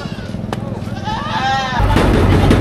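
Goats bleat loudly and close by at a livestock auction in Padre Garcia, Batangas, with wavering cries over a busy crowd murmur and a rising rumble of background noise.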